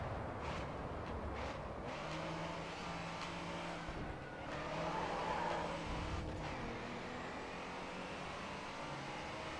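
A race car engine in the racing video game GRID 2 drones steadily under constant road and tyre noise, with a few brief sharper bursts like skids or gear changes along the way.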